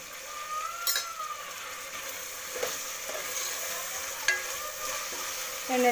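Coriander and mint leaves fry in hot oil while being stirred for tomato bath, a steady sizzling hiss with occasional scraping clicks of a utensil against the pan, close and moderately loud, no voices.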